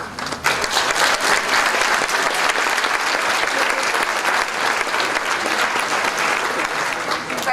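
Sustained applause from an audience of parents at a middle school prize day, loud and dense clapping that fills the hall from start to finish.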